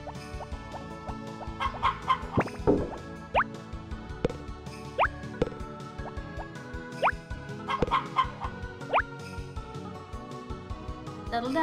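Several backyard hens clucking and squawking in short agitated bursts, with a few rising calls standing out over a continuous busy background of poultry noise.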